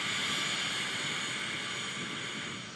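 Boeing C-17 Globemaster aircraft engines roar loud and close, a steady broadband jet rush holding for several seconds and easing off slightly at the end.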